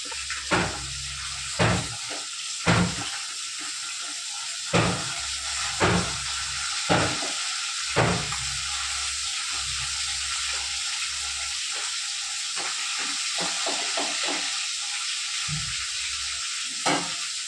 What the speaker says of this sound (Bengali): মাছ ভাজা হয়ে গেছে, তেল গরম হয়ে গেছে।